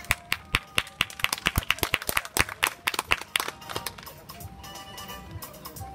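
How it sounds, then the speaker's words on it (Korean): An audience in a gymnasium claps at a traditional Korean changgeuk performance held as a World Aquatics Championships cultural event. The sharp, fairly rhythmic claps are loud at first, then thin out and fade. "자리에 계신 분들 박수로 함께 해주시면 고맙겠습니다."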